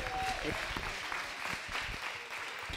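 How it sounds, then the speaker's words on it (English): An audience at a brand-building marketing masterclass in Orlando gives a round of applause, a dense, even wash of clapping sustained across the whole stretch, with a voice briefly heard at the start. "Let's give a round of applause to David Buckles with bad marketing"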